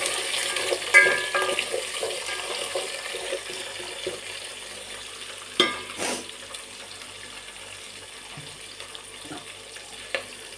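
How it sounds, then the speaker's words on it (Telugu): Carrot and drumstick pieces are stirred in a pot of hotel-style sambar. A few scattered scrapes and clacks sit over a steady low hiss, with no talking. "క్యారెట్ ముక్కలు ములక్కాయ ముక్కలు వేసుకున్న తర్వాత ఒకసారి వీటిని కలుపుకోవాలి"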